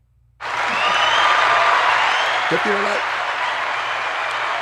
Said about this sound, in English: Yo, Beto, play some fucking applause